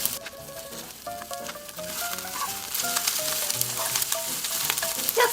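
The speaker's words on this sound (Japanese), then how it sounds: "フライパンにオリーブオイル小さじ2を入れて中火で熱し、下処理したエビを並べ入れ加熱します" Prepared shrimp fry in olive oil in a frying pan over medium heat for clam and shrimp paella, giving a bright, steady sizzle that grows louder, with background music and no talking.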